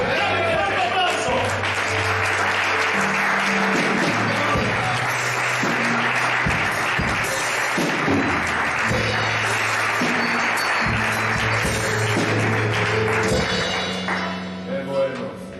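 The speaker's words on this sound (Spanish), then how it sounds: "¡Dame un fuerte aplauso!" A church congregation applauds loudly and steadily for about fifteen seconds, with thumps and tonal sounds underneath, before the clapping thins out at the end.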